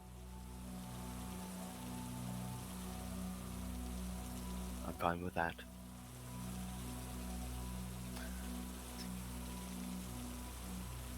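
Steady, heavy rain hisses without a break, with a brief spoken phrase partway through.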